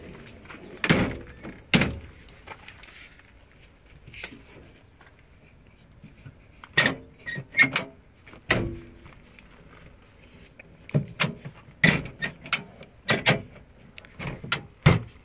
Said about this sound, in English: Door still does open and shut.